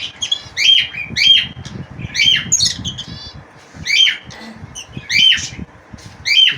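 Cockatiels in breeding cages fitted with clay-pot nest boxes give repeated loud, harsh squawks in bursts about once a second, close by, over a low background rumble.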